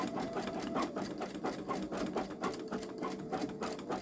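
A Babylock Solaris Vision embroidery machine stitches out a design at a fast, steady rhythmic clatter, each needle stroke ticking evenly and continuously at close range with no voices.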